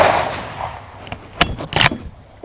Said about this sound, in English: Let's go ahead and shoot this 200-yard target.